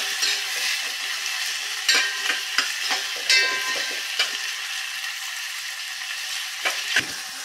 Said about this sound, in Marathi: आता टोमॅटो छान मऊ होईपर्यंत आपण शिजवून घेऊया